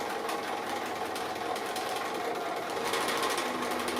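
A sewing machine stitches an applique with a rapid, steady mechanical whirring and ticking, close and continuous for the whole stretch, with no voices.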